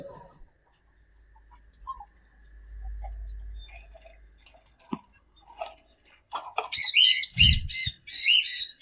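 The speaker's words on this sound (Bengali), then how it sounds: "কোকাটেল লুটিনোর মেল পাখি" Harsh, loud squawks from a male lutino cockatiel come in a rapid burst near the end, following quieter rustling and handling noises.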